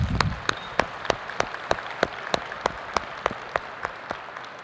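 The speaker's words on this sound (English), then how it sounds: "Let's give Chris another round of applause." An audience at a 2016 conference general session applauds a speaker, a fairly close, regular run of sharp claps repeating steadily for several seconds with no voices.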